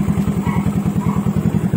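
A Yamaha Nouvo Z scooter idles with an EXOS aftermarket exhaust pipe, its engine putting out a loud, close, steady fast-pulsing throb with no talking over it.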